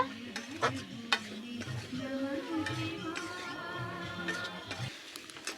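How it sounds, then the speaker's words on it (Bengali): Spices with salt and turmeric, later joined by potatoes, are stirred and fried in a pan for a Bengali pangas fish curry, giving soft, close scraping of the spatula over a low, continuous sizzle. "আবারও মশলাটা 2-3 মিনিট ধরে ভালোভাবে কষে নেব।"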